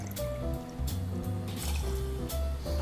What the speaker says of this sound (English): I'm going to follow that up with 4 ounces of the Balcones Lineage whiskey